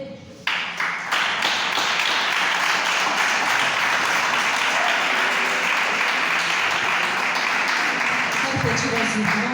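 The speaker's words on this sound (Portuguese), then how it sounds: "palmas que louvam o nome do Senhor Jesus" Church congregation applauding in praise of Jesus, a dense, steady wash of many hands clapping that holds loud for the whole stretch, with voices mixed into the clapping.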